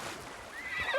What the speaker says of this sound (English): Oh my god, that horse is useless.